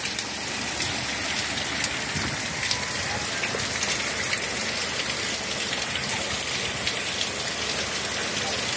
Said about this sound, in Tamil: மழை அவ்வளோ அருமையா போயிடுது.